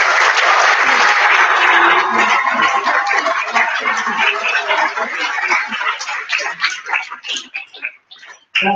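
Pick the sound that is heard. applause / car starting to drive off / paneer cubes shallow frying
applause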